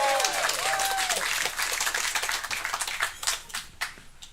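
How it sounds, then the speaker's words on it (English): A comedy club audience claps and cheers as a comedian comes to the stage, a loud, dense burst that thins into scattered claps over a few seconds. "y'all give it up for Jerry De La Garza."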